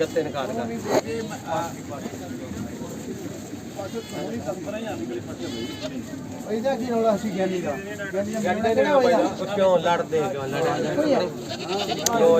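Barbari goats bleating at the Surewala goat market, with repeated bleats rising over dense crowd chatter and nearby voices throughout.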